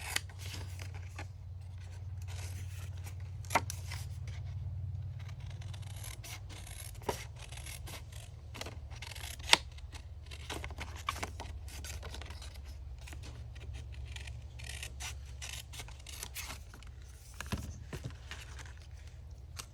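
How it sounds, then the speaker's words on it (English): Paper scraps rough cut with scissors for ticket ephemera: a long stretch of small snips and rustling paper with a steady low hum beneath, close and quiet, with no voice. "I'm going to rough cut these ones."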